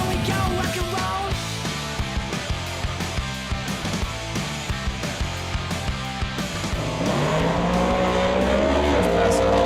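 A drag race car on nitrous launches hard off the line, its engine roaring loud and continuous as the revs climb and the note rises near the end.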